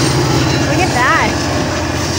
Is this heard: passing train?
yes